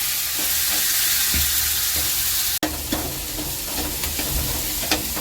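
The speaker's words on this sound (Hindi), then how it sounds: "ऑयल हो गया है गरम, जीरा डाल दिया है। अब डाल देते हैं चने इसमें।" Chickpeas sizzling and frying in a kadhai of hot oil with cumin seeds, steady loud crackle with stirring scrapes and a sharp clatter midway, no talking.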